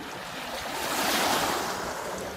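Waves wash onto the Thames foreshore with a broad hissing surge that swells and recedes over a couple of seconds, close by and fairly loud, with some wind noise mixed in.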